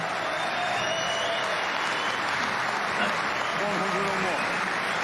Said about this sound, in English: The crowd raised the roof.